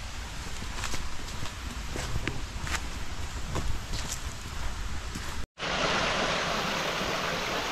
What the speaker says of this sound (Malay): Tu ada bunyi air tu.